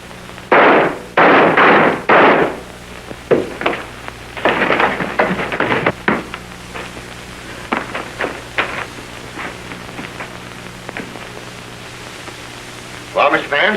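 Gunshots in a 1930 crime film, several loud sharp bangs in quick bursts, with shouting voices mixed in over a hissy old soundtrack.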